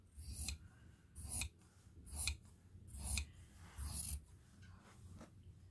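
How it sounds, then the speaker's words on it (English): Scissors trim excess fabric from a frock coat lining in five steady rhythmic cuts, close and clear, each a rasping snip followed by a brief pause, with no talking. "I'm going to trim off 2½ inches, and I can see where I need to trim."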